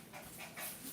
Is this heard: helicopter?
no